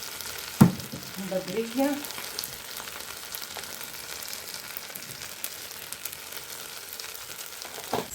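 Onions frying in a pan give a soft, steady sizzle that runs the length of the clip. A sharp knock and a brief spoken word come near the start.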